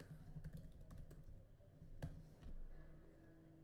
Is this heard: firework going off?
no